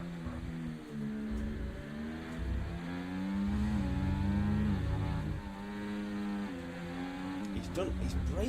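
A racing car under hard braking in the F7R racing game at the Hungary round, its loud engine note sliding and dropping in pitch as it slows, with other cars droning close by.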